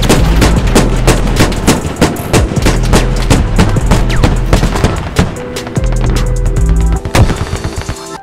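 Dense, loud gunfire in the video game Squad, rapid automatic bursts and heavy booming shots hammering almost nonstop, close and relentless with no talking.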